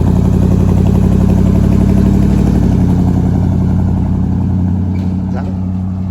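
A Chevy truck engine rumbles and revs at an outdoor car meet, a loud, dense, throbbing V8-style note held close and steady before easing slightly at the end.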